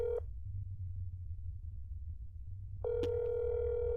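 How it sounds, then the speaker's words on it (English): Rotary phone dial tone in the video game That's Not My Neighbor: a steady, clean hum cuts off after a moment, leaving quiet, then returns with a faint click and continues unbroken to the end. "I understand how a rotary phone works."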